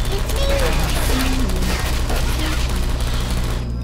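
Turret gunfire in Portal 2, a rapid stream of automatic shots that continues for several seconds, with a voice speaking over the firing before it cuts off near the end.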